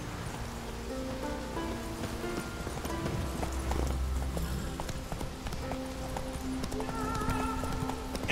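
Horse hooves clip-clopping steadily in The Witcher 3 while rain falls, with an occasional whinny and game music layered in the background.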